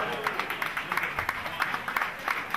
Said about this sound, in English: Give him a round of applause, Mr. Gary Mellor.